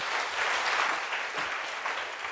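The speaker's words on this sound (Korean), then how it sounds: "자, 박수로 주님께 영광 돌려." Applause from a church congregation: dense, even clapping that stays steady for a couple of seconds, with no voices over it.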